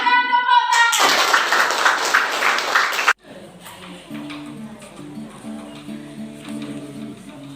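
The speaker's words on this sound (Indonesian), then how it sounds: "Silakan tepuk tangan." Children in a classroom burst into a dense round of hand clapping for about two seconds, then stop abruptly. A voice comes before it, and quieter tones and voices follow.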